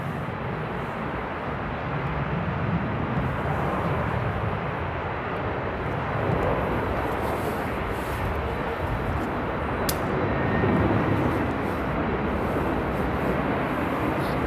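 A fixed-wing airliner taking off at Amsterdam Airport after a storm, its jet engines giving a broad, steady roar at a moderate distance that swells slightly toward the end, with no voices over it.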